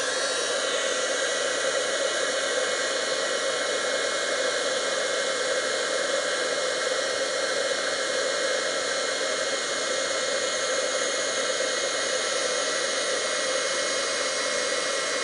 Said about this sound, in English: our heat tool. Let's watch the magic begin.